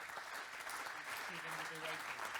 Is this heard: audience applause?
yes